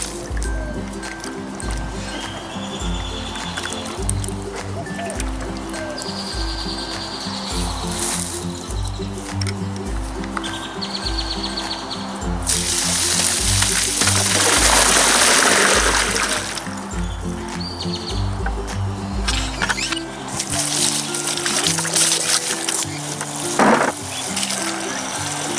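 Potatoes being washed and swished in water, with steady liquid splashing, dripping and trickling throughout, a louder rush of running water midway and a rhythmic low hum beneath.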